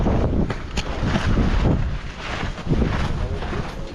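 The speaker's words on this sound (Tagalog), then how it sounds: "Sarap pala ng hangin dito, Ben, no?" Strong gusting wind buffets the microphone on an open rooftop deck, a loud rumbling roar that swells and dips continuously with no voices.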